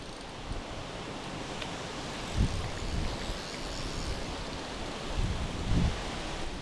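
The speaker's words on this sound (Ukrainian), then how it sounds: "Так, вітер знявся сильний." Strong wind buffeting an outdoor carp fishing spot by the water, a constant rushing noise with a few louder gusts, no talking.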